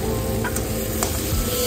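Spice paste for chitol fish kalia sizzles in a pan while being stirred, a steady close frying hiss with a few soft scraping strokes throughout, no talking.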